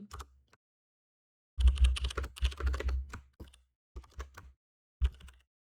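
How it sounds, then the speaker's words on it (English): Fingers type on a high-sensitivity computer keyboard in quick bursts of close, crisp key clicks, broken up by short pauses. "My friend convinced me to get this keyboard."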